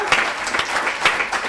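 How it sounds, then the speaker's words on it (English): Audience applause for a panel at a two-day W.E.B. Du Bois symposium: steady, dense clapping from a crowd, fairly close and loud, with no talking over it. "Let's give the panel a round of applause."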